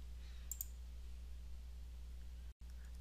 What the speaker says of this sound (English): I'll right click and click open profile model